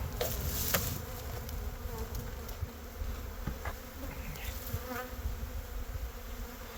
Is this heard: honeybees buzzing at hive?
yes